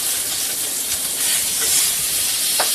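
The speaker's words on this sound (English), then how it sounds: "I'm going to turn the steaks over now." Reverse-seared steaks seasoned with lemon pepper and garlic salt sear in a hot pan with a loud, steady, close sizzle that hisses without a break and has no talking over it.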